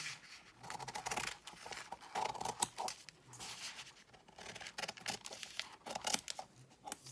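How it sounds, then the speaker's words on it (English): Scissors snip through fabric pieces for a collage pattern, giving a run of close, crisp cutting and rustling strokes in irregular bursts, with no talking. "the next thing I do is I'm just going to cut some bits out"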